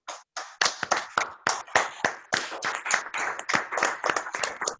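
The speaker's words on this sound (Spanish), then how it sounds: "despedimos a nuestros veteranos de guerra con un fuerte aplauso" A small group claps for war veterans at a commemorative gathering, sharp separate hand claps in an uneven rhythm, close and distinct rather than a dense roar.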